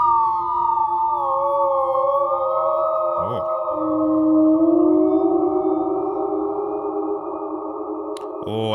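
Sustained Mellotron sample with a long reverb tail, layered held tones that slowly bend and swell, with brief clicks as notes change, ringing out at steady loudness.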